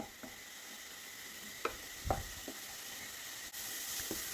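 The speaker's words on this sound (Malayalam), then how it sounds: "ആ നെയ്യിൽ ഈ ക്യാരറ്റ് ഒന്ന് ഫ്രൈ ചെയ്തെടുക്കണം" Grated carrot sizzles steadily in hot ghee in a pan, with a few sharp scraping clicks from a spoon stirring it, close and fairly quiet.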